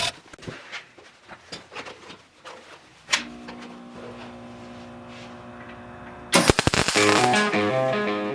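Welding on a rusty mini bike ski wear bar clamped in a vise, a steady buzzing crackle that starts abruptly and runs on, followed by a louder, harsher burst of arc noise near the end.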